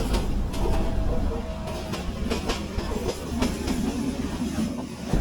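A passenger train rolling along the rails, heard from inside as a steady low rumble with rhythmic clicks and clanks of the wheels over the track joints.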